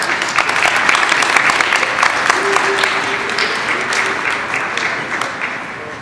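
An audience at a Children's Grief Awareness Day gathering in Northeast Ohio claps loudly and steadily for several seconds, the applause gradually easing off, with a few voices mixed into the crowd.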